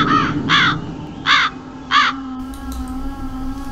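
A crow caws loudly and close by, four harsh calls spaced about half a second apart, followed by quieter background sounds.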